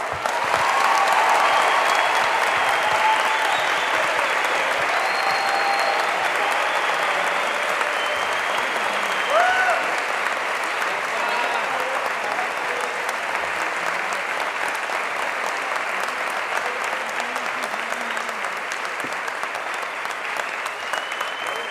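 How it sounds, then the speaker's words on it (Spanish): Sustained, full applause from a large audience at a student gathering welcoming a speaker, continuous clapping that holds steady throughout and fades only slightly. "con un fuerte aplauso recibimos a Juan Grabois"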